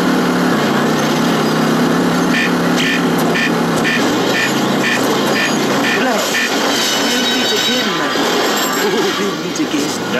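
Car engine in The Simpsons Road Rage video game, a high buzzing drone held under loud music and game chatter, with a rhythmic pulsing pattern partway through.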